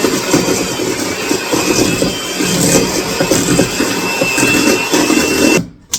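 An electric mixer beats molasses and egg into gingerbread cookie dough with a loud, steady whir that runs close and unbroken for about six seconds before cutting off at the end.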